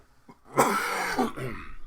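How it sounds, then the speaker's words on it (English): A single harsh cough bursts out close to the listener, followed by a brief rasping tail, then quiet. "Sorry, got this cough again."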